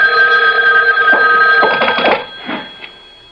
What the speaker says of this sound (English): A phone. At this hour?